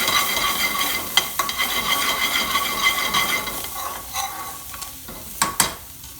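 Coriander is stirred into a sizzling lamb balti in a hot pan, with continuous loud frying hiss and a few sharp utensil scrapes and clinks against the pan.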